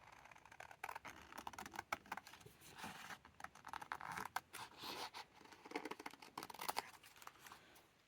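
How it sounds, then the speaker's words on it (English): Scissors cut out a paper leaf for a fall collage glue-book page, giving soft, irregular snips and paper rustles, quiet and close, with no talking. "We will cut out this leaf here."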